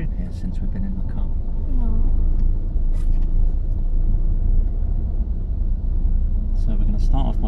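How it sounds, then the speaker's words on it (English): A car pulling away from a quiet one-way car park near Shirley station, a steady low engine rumble and road noise heard from inside the cabin, continuous throughout with some speech over it. "You drive on whenever you're ready out of our one-way car park."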